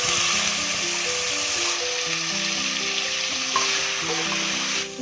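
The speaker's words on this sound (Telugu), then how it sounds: "ఎండు రొయ్యలు ఇలా వేయించుకోవడం వల్ల మంచి టేస్ట్ ఉంటుందండి" Dried prawns fry in hot oil, giving a continuous close sizzle and crackle with light stirring throughout, broken by a steady background tone and no one speaking.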